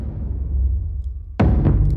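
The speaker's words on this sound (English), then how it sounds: "Let me play this sound for you with this bypassed on the drum sound" Deep drum hits in an epic choral score with the stereo widener bypassed: a low rumbling decay followed by a fresh sharp strike near the end, loud and unaccompanied.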